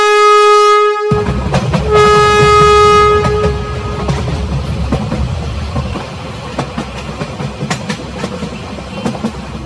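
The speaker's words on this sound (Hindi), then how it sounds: "ये लोग बातें कर ही रहे थे कि तभी यहाँ इन लोगों की ट्रेन आ जाती है।" A cartoon train pulls into a railway station, opening with a loud sustained horn blast and a second horn call, followed by rumbling wheels and clattering rail noise that stays loud throughout.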